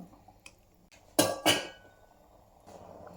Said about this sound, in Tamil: குக்கரை மூடிடலாம்.